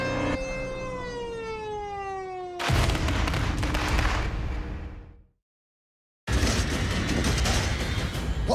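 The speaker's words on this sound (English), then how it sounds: "I think we need more explosives." Explosives are set off to blow up a tomato. A falling whistle-like tone gives way to a loud, roaring broadband blast that dies into a moment of dead silence, then a second equally loud blast begins abruptly.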